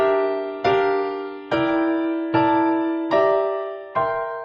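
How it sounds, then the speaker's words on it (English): A piano plays a C dominant seventh chord in drop 2 voicing, struck five times at a steady, unhurried pace, each chord ringing clearly and decaying before the next, close and alone. "here's the sound of a C dominant 7 in the drop 2 style"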